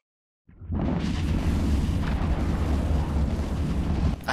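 Sustained barrage of ship weapons in a space fleet battle in EVE Online, beginning abruptly and continuing as a dense, loud, rumbling roar of overlapping blasts with no pause.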